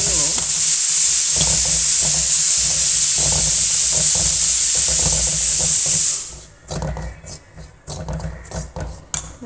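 Chickpea curry masala sautés in a pan over a gas flame: a loud, steady sizzle and hiss runs for about six seconds, then cuts away to quieter, irregular stirring and scraping.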